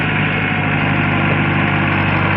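A farm tractor's engine running steadily up close while it pulls a heavily loaded trolley, a loud, continuous low rumble with a constant droning throb and no pauses.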